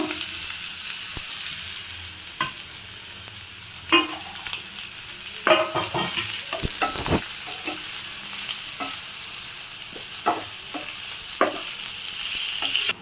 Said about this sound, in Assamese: এতিয়া ইয়াতে অলপ দেৰি পিঁয়াজখিনি ভাজি